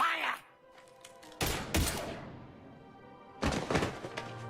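Gunfire bursts from the Mass Effect 3 video game, two dense loud volleys breaking out after a brief lull, with game dialogue voices around them.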